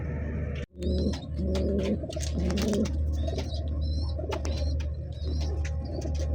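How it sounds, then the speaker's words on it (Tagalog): Soft, repeated pigeon coos aboard a ship, layered over a steady low hum, with occasional chirps and a brief rustle of wings near the start. "Nakakaipon na tayo ng quality mga kalapati."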